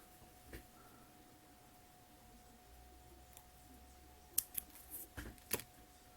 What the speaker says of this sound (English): So we'll snip off the excess.